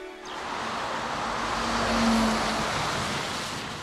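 A car driving on the road to Bonn, a broad steady roar of engine and tire noise that swells slightly and then eases, close and continuous with no talking.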